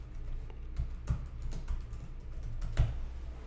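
Typing on a computer keyboard at a desk, steady scattered key clicks with a few heavier strokes over about three seconds, close and fairly quiet, no talking.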